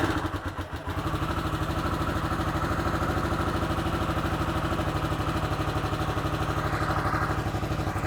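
A stock Harley-Davidson Sportster S warms up at a steady, throbbing idle, a low rhythmic engine pulse that holds unchanged throughout, close and moderately loud with no talking.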